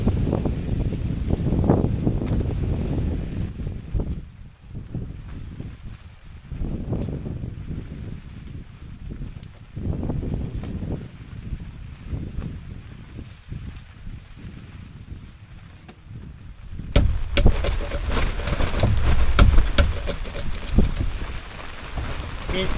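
Strong wind buffets a storm-swept mountaintop campsite, with heavy rain, roaring in steady gusts close to the microphone; in the last few seconds a denser, harder rush sets in, with sharp clicks and taps over it.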